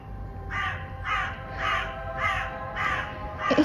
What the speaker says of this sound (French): Et c'est le corbeau qui répond.